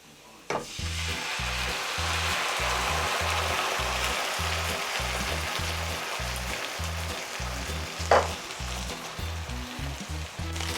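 Tinned tomatoes sizzle and crackle steadily in a hot pan, close up, with a couple of sharp clunks as they are stirred.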